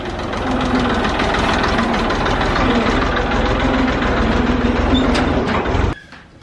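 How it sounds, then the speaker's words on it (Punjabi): A tractor engine runs close by with a steady, knocking diesel chug that holds even for about six seconds, then cuts off abruptly into near quiet. "ਫੌਜੀ ਬਾਈ ਆ ਗਿਆ ਟਰੈਕਟਰ ਲੈ ਕੇ"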